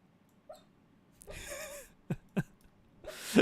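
A dreaming dog makes a few short, high squeaks, with brief snuffles and bursts of breath between them, close by and at low volume.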